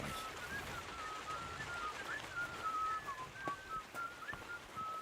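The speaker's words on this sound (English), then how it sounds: "Stop that whistling." A character in Kingdom Come Deliverance 2 whistles a wandering, continuous tune over steady game ambience for the full five seconds.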